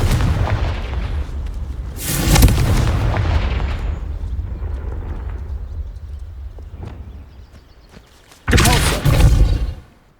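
In Hogwarts Legacy, Confringo spells go off as two loud explosive blasts about six seconds apart, each a booming burst with a crackling tail, over steady low game ambience.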